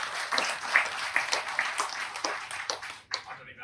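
Applause from the audience after a panel session on cancer care, a short burst of scattered claps that fades out near the end.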